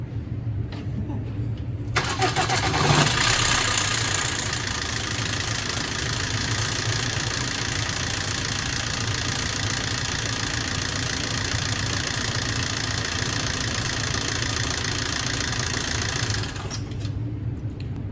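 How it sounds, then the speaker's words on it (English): A Vauxhall Corsa 1.3 CDTI diesel engine cranks and starts, then idles with a steady, rattly clatter up close for about fifteen seconds before it is shut off. "we're just going to start the engine up. Just run it for about 10 seconds"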